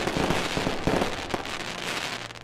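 Firecracker blasts crackle in a dense, continuous burst of sharp pops and bangs, loud and sustained throughout.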